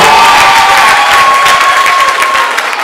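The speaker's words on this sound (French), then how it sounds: "Est-ce qu'on peut acclamer très très fort pour la participation?" Students at Lycée Mayidiyo in Kamina applaud and cheer loudly, a dense, sustained burst of clapping and shouting that fills the room from start to finish.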